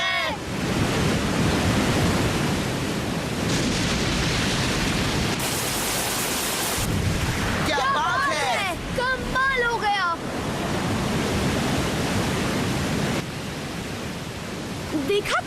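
Ocean waves at sea in a Beyblade cartoon surge and crash in a loud, broad wash of surf and wind, with brief whooshing effects in the middle and spoken dialogue over the roar.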